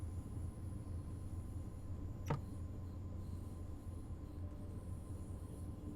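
A train runs in a nighttime train-driving video game set in snow, a low, steady rumble of rolling wheels with a single sharp click partway through.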